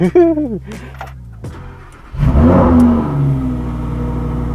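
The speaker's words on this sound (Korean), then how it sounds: "시동을 한번 걸어볼까요?" A Lamborghini Huracán supercar engine starts up, a starter whir followed by a loud burst of revving that settles into a deep, steady idle rumble, heard up close after a brief spoken remark.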